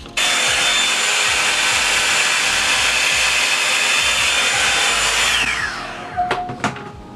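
A Revlon One-Step hair dryer blows loud and steady on natural hair, a constant close whooshing roar that cuts off near the end and leaves a few brief clicks and handling knocks.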